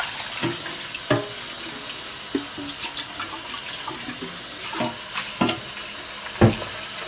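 Menudo tripe gets rinsed under a running kitchen tap, with a faint steady water wash broken by scattered clatters and splashes from handling in the sink.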